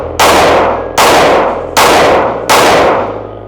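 A Smith & Wesson M&P 5.7 full-size handgun fires four loud, sharp shots at an even pace of under a second apart, each crack ringing out briefly before the next, with no talking.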